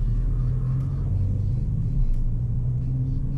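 A car engine rumbles steadily during a driving lesson as the learner gently applies the throttle, a low continuous drone that swells only slightly.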